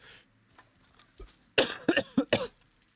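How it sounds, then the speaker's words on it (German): After a few quiet rustles, a person gives a rough burst of three or four harsh, close coughs in quick succession, then falls silent. "Und du musst einfach nur husten"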